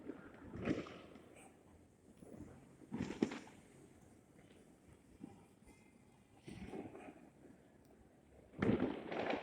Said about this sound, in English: I can hear all the fireworks, but I can't see any.